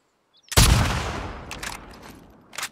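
A single loud gunshot cracks in The Last of Us Part II and its reverberating tail fades over about two seconds, followed by the sharp start of a second shot.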